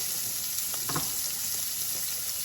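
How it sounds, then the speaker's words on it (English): Garlic sizzles in a heated skillet with a steady, hissing fry, and a brief stir or scrape comes through near the middle. "I'm heating up this other skillet here to get this garlic to start to roast down a little bit"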